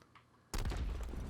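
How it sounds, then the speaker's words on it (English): An explosion sound effect in the Project Spark game, a sudden loud boom after brief near-silence, followed by a rumbling, crackling decay. "That's a good explosion sound."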